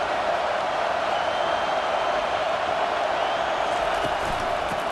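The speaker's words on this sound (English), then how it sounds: "This crowd bringing the energy and noise early." Stadium crowd at a USC at Notre Dame college football game, a steady, loud wash of cheering and roaring voices filling the whole stretch without a break.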